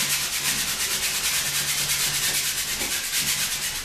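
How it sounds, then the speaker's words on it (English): A brush scrubbing paint hard into canvas for a waterfall painting makes a close, rhythmic scratchy rasp of quick repeated back-and-forth strokes, continuous and without talk. "You really just got to scrub it in there and really be tough with it."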